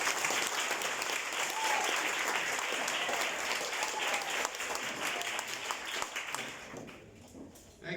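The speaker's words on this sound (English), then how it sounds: "Give yourself a round of applause." Applause fills the room at a Department of Justice and Education moot court event in Bellville as the audience claps for themselves. Dense, sustained clapping thins gradually toward the end, with faint voices mixed in.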